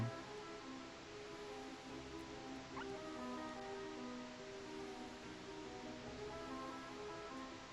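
Great Waterfall ambience in Adventures of Mana: a steady, even wash of rushing water holds throughout, faint and continuous beneath a sustained melodic musical background.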